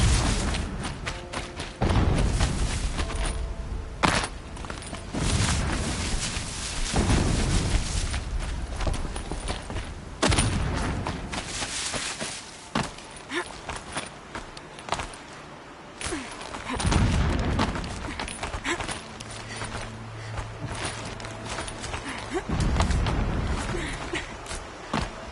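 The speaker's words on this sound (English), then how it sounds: "Explosions in the distance." Distant explosions in the Horizon Zero Dawn video game, dull booms and thuds recurring every few seconds over a long stretch, muffled and far off, with scattered clatter and ambient game sounds between them.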